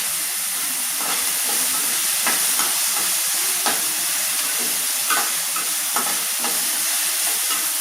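Sautéing in oil for manathakkali vatha kuzhambu, a Tamil tamarind curry with dried black nightshade berries, a dense, continuous close sizzle with occasional sharper pops and spatters throughout.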